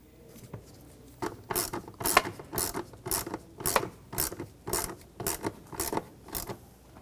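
Screws are tightened by hand on a 2009-2013 BMW 328i xDrive mass airflow sensor, giving a run of about ten quick ratcheting click bursts in a steady rhythm. The sound is close and fairly quiet, with no speech.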